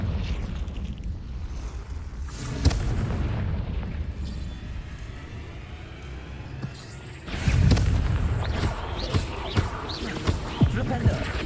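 A Confringo fire spell erupts in Hogwarts Legacy inside a cave, giving a loud booming burst followed by a long rumbling roar that swells again into a second heavy blast, with a voice faintly underneath.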